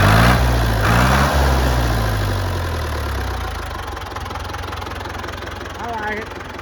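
A tractor engine idles close by with very little blow-by, a steady low throbbing rumble that holds throughout and eases slightly in level partway through.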